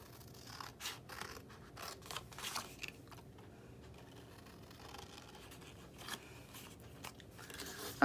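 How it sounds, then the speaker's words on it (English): Scissors snip through the little tabs of a paper treat box, giving a quiet run of crisp, irregular cuts close by. "you're going to cut on the little tabs up to the score lines on both sides"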